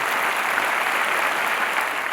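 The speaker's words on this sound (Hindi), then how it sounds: "तो तालियां बजाएं" A congregation claps together at a church gathering, a dense and even burst of applause that holds steady for a couple of seconds at close range, with no talking over it.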